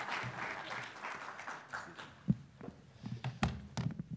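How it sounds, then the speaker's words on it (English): Audience applause for a plenary speaker at a conference session, a soft, diffuse patter of clapping with a few louder thumps and knocks scattered through it. "Yeah, you can give him a round of applause."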